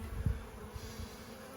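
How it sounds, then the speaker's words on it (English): Lethargic, unhealthy bees in an opened brood box give off a faint, low, steady buzz with a few soft thuds, heard alone at a distance. "we've got some not very healthy looking bees, very lethargic"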